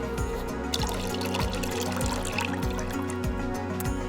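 Chlorine solution is mixed into 25 liters of water in a bucket, giving continuous soft sloshing and trickling water, fairly faint and with no voices.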